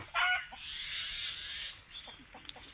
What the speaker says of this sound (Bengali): আর ওই পাখি দেখতে পাচ্ছেন, ক্যাস ক্যাস ক্যাস ক্যাস করতে আছে।